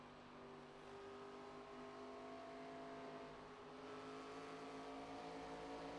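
Race car engine in ARCA sim racing at Dover Motor Speedway, a steady loud drone with the throttle briefly eased off and picked back up out of a corner, continuous with no talk.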